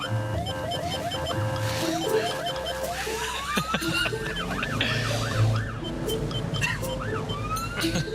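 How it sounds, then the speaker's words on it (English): Wailing ambulance siren sweeping up and down continuously over a busy street scene with traffic, paramedics on the road in Australia, sounding loud and close throughout. "I love the siren."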